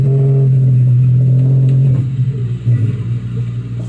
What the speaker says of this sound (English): That's the sound of a North American right whale.